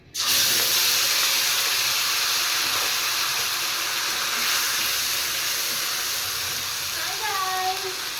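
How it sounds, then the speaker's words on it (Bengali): Whole cumin, dried red chilli and a bay leaf dropped into hot oil for a Bengali fish curry, erupting into a loud, steady hiss of sizzling that holds throughout. "এবার তেলে দিয়ে দিচ্ছি গোটা জিরে আর শুকনো লঙ্কা একটা তেজপাতা একটা"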